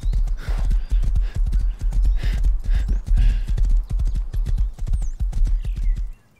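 Rhythmic horse hooves clop steadily at a trotting pace in the video game Rust, close and loud, with an occasional faint whinny.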